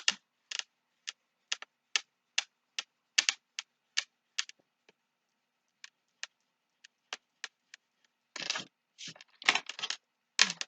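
A bone folder presses and creases a paper fold for a scrapbooking card holder, giving short dry taps and rubbing strokes in an even rhythm, then a denser burst of scraping friction near the end, close and quiet with no talk.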